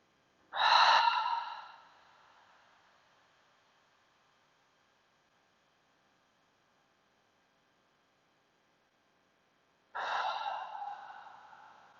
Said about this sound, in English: inhale through your nose. Exhale, sigh.